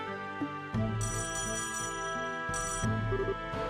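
A phone rings during a call in the video game Trails in the Sky SC, a bright electronic ringtone with a repeating melodic pattern over a steady tone, playing twice with no voices.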